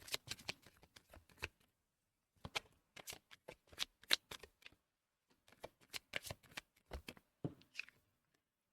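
Oracle cards being shuffled in the hands at a tarot and oracle reading, close and crisp riffling in several bursts separated by short pauses, with no talking.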